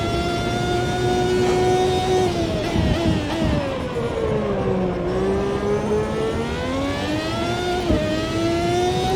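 A Formula V12 race car screams through its gears on the final lap at Suzuka in Automobilista 2, a loud continuous engine wail with rising and falling pitch, downshift dips and brief crackles, heard close and alone.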